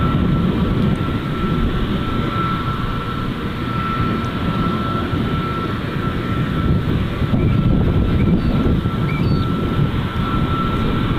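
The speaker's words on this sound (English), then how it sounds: "I love the sound of these Air New Zealand's A321s." An Air New Zealand Airbus A321 jet at Gold Coast Airport gives a loud, steady engine roar with a faint whine on top, sustained evenly throughout with no voices.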